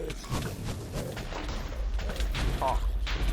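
Gunfire and booming shots in the video game Minecraft, a dense run of thuds and blasts layered with game sounds and excited talk throughout.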